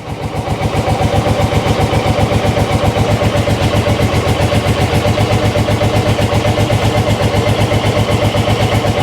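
A small engine runs on choke after starting, its loud, steady rapid firing pulses continuing evenly close by throughout with no talk.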